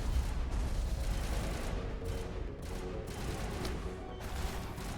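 Gunfire in the Mass Effect video game crackles as a dense, continuous barrage of rapid shots and booms, steady and fairly loud throughout, with no talking over it.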